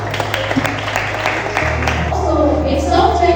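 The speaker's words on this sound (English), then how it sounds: "Let's clap for that." An audience claps briefly at a She Code Africa STEM event for girls in Delta State, Nigeria. The applause is soft and scattered, fades out, and gives way to people talking over a low hum.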